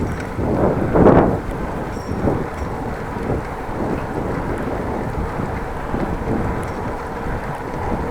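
Steady headwind rushing across a microphone while cycling between Appingedam and Groningen in the Netherlands, a continuous low buffeting roar with a stronger gust near the start and no talking.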